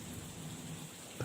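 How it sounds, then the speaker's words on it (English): A rainstorm pounds against a car windshield as a dense, steady hiss of heavy rain, close and continuous, with a faint low rumble underneath. "rain pounding against the windshield"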